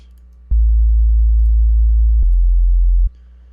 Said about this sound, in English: So we're just reinforcing the awesomeness with a sine wave.